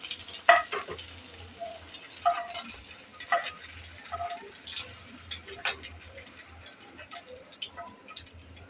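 Dried taki fish (shutki) frying in oil in a pan, giving a low steady sizzle broken by scattered crackles and pops, with occasional scraping stirs; no one speaks.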